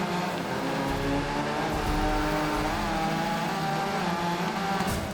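A rally car in the racing video game Gravel revs hard with its wheels spinning, a continuous loud engine roar mixed with gravelly tire noise, steady and close throughout.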